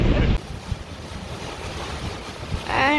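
Strong wind and breaking waves rush around a sailboat under sail in a storm off Turkey, with steady close wind buffeting the microphone throughout.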